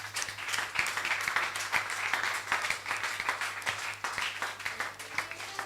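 Congregation applauding during a church service, a dense, steady wash of many hands clapping close by, with a low constant hum underneath and no clear talk.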